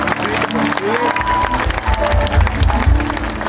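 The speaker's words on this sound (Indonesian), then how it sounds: "Tepuk tangan dulu buat anak-anak muda." A church congregation at an Indonesian revival service in a sports hall applauds the young people, steady clapping mixed with crowd noise and a low musical hum, while voices carry faintly underneath.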